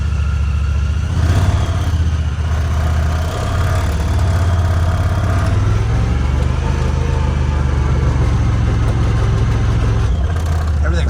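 A UTV engine runs steadily through a short ride, a low continuous rumble with slight rises in revs, close and fairly loud, with muddy ground underfoot and occasional faint voices over it.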